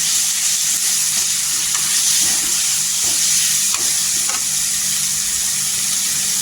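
Dry ground spices (coriander powder, turmeric and homemade red chilli powder) sizzle in hot oil in a pan for a cauliflower curry, a steady loud frying hiss throughout with occasional stirring scrapes.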